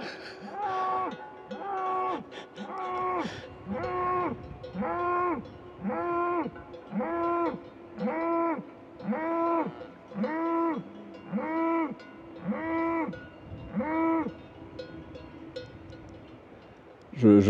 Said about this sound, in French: C'était la vache qui n'arrête pas de faire une sonorité.